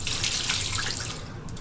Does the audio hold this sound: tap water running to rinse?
yes